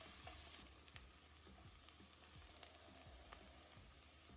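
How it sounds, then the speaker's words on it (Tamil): Finely chopped onions sauté in butter with garlic and green chilli inside a pressure cooker for macaroni pasta, giving a faint, steady sizzle with light crackles and occasional stirring. "அடுத்து பொடியாக நறுக்கின 2 வெங்காயம் சேர்த்து நல்லா வதக்கிடலாம்."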